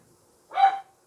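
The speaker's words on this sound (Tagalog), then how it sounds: "Maingay po yung aso." A single short, sharp dog bark rings out at moderate distance in an otherwise quiet room, over in a fraction of a second.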